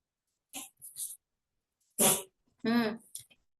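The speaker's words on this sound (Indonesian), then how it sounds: "Kucing saya batuk dia." A cat coughs in several short, harsh, hacking bursts with gaps between them, close and sharp.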